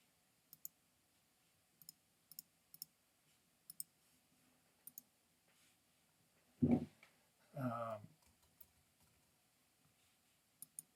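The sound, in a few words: typing on a computer keyboard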